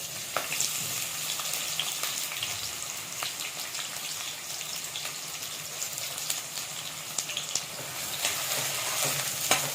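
Chopped onions and green chillies fry in a pan for a coconut and poppy seed chicken gravy, giving a continuous close sizzle and crackle with occasional stirring, no voices.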